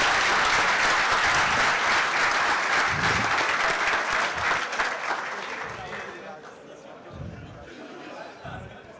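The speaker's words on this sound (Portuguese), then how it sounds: "Pessoal, aplausos, Alexandre." An audience at a technical talk breaks into dense applause, loud at first and then thinning into scattered claps as murmured voices come through toward the end.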